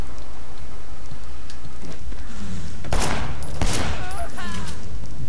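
A headshot gunshot in the Sleeping Dogs video game: a couple of loud, sharp shots cracking over a noisy, rain-like game background, with brief bursts of activity around them.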